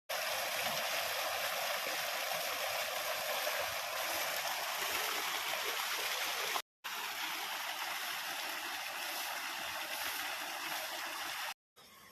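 Irrigation water flows through a field channel on a farm with a continuous, even rushing and gurgling, close and steady, interrupted only by two brief cuts.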